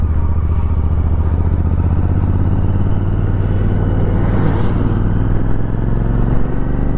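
Royal Enfield GT 650 motorcycle riding on a mountain road, its engine thumping loud and close in a steady low drone with wind rush throughout.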